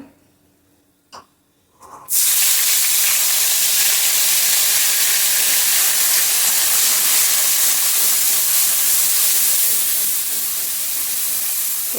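A grinder whirs loudly and steadily, starting abruptly after a couple of quiet seconds, blending a spice paste of ginger, cumin, coriander, green chilli, sugar and puffed rice with a little water, a constant hissing roar to the end.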